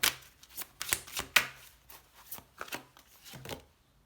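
Tarot cards being handled and shuffled at a reading table, a series of crisp riffling slaps and flicks in irregular bursts, close and fairly quiet, with no talking.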